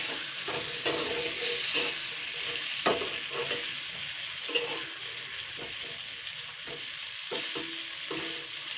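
Chana dal fritters sizzle gently in a pan for several seconds, a steady frying hiss broken by occasional soft knocks and scrapes of a spatula turning them.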